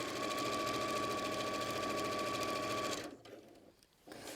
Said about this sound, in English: Sew it down the side. Then sew it down the other side.